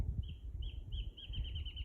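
Faint, high wild bird chirps repeat several times, growing more frequent, over a low rumble of outdoor background noise at a bird sanctuary on a ranch.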